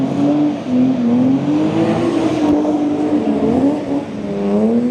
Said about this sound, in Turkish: bunu böyle çok yan yana sürmek çok zor